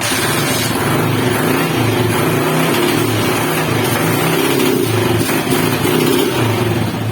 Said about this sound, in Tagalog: Okay, so palyado pa rin mga bro, no? Okay, hindi pa rin natanggal yung palya.